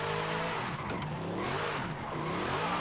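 Engine of an AMG car revving and accelerating in fourth gear in Forza Horizon 5, a steady loud roar with rising and falling harmonic pitch sweeps throughout, no talking.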